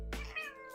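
A single short, drawn-out cat meow close to the microphone, rising then sliding down in pitch over a low background hum.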